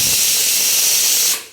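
A pressure cooker on the stove, steaming idli, lets out a loud, steady hiss of escaping steam that runs unbroken for over a second and then quickly dies away.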